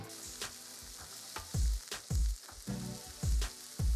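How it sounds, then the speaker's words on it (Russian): Mushrooms fry in a little oil in a pan, giving a steady bright sizzle broken by regular low scraping thumps as they are stirred. "обжариваю их на сковороде с добавлением небольшого количества масла"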